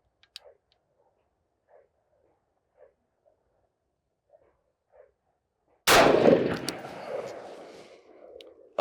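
A rifle fired at an outdoor shooting range, one loud sharp shot near the end ringing out into a long decaying echo, after a stretch of faint scattered clicks and handling noises.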